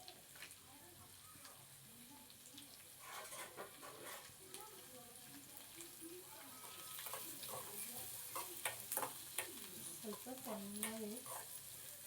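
Oil sizzling in a pan as an ingredient fries toward brown for a North Karnataka style dish, a soft steady crackle with occasional stirring scrapes, fairly quiet, with a voice murmuring in the background at times.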